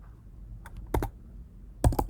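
A few quick computer keyboard keystrokes come as a Linux terminal command is typed, in two short bursts, one near the middle and a cluster near the end, with a quiet room between them.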